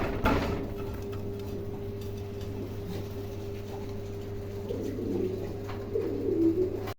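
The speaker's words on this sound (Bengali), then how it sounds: "দেখেন চমৎকার একজোড়া বোরবাগ কবুতর আছে" A pair of Borbag pigeons coos softly and close by, with low, repeated throaty coos over a steady hum, and no talking.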